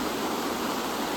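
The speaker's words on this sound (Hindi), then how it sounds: "देख सकते हो कितना मस्त स्टेप बाय स्टेप झरना बनाए गए हैं" Broad, steady rush of a waterfall cascading down a series of built steps below a dam, a continuous even roar with no voices.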